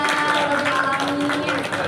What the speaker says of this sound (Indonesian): Tepuk tangannya keras dulu.